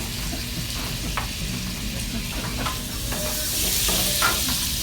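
Butter and olive oil sizzling in a hot pan during a steakhouse cooking class, a steady close frying hiss with small crackles and pops, swelling louder near the end.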